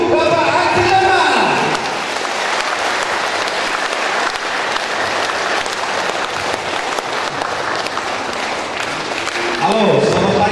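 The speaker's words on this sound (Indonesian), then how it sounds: "kita beri tepuk tangan yang meriah untuk Bapak Haji Jamal" Loud, sustained applause from the audience at a public debate for regency head candidates in Ngada, a thick roar of clapping with voices at the start and end.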